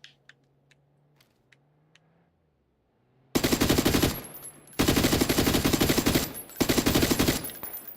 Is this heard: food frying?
no